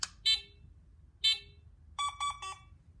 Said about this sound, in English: we got another alarm here at the carport